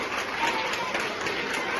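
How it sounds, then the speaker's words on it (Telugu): Children at a school teachers' felicitation event clapping to welcome the headmaster, a steady wash of applause at moderate level with faint crowd murmur throughout. "పిల్లలంతా కూడా ఒక్కసారి చప్పట్లతో వారిని స్వాగత పలకవలసిందిగా కోరుతా ఉన్నాం"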